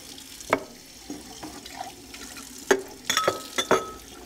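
Dye water mixed with mild organic soap poured down a sink: scattered splashes, drips and gurgles with a few glassy clinks, close and irregular, with no talk.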